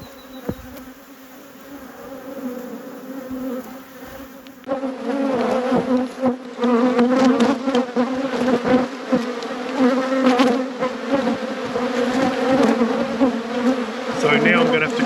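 Honey bees buzzing around an open hive in an apiary, a steady humming drone that grows louder and denser partway through, close by and continuous with scattered handling clicks.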